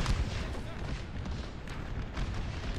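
Artillery fire rumbles through a Napoleon: Total War battle in an American Civil War Gettysburg mod at Culp's Hill: a continuous, dense wash of distant booms and gunfire, loud and sustained, with no clear separate shots.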